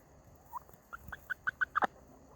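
A backyard hen in a winterized coop makes a series of short, rising clucks and chattering calls, growing louder toward the end, close by and with no talking.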